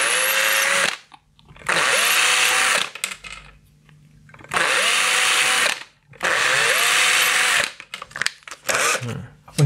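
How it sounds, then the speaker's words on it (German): A power drill bores holes in parts, running in four long loud bursts with short pauses between, whining steadily close by, followed by brief clattering handling noises. "Und da bohren wir jetzt diese ganzen Löcher hier."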